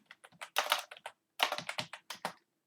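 Java code is typed on a computer keyboard in quick, close bursts of crisp key clicks separated by short pauses, with no voice.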